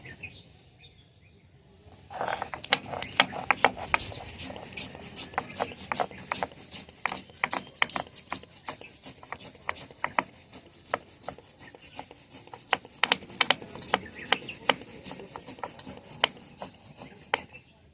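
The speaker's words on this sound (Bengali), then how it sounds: "তো এখানে আমি শিলপাটায় আদা গোলমরিচ লবঙ্গ এলাচ ডালচিনি নিয়ে নিয়েছি এগুলো এখন বেটে নেব" Ginger, black pepper, cloves, cardamom and cinnamon ground on a flat grinding stone (shil-pata), a continuous run of gritty rhythmic rubbing and scraping strokes, close and fairly loud, starting after a brief quiet opening.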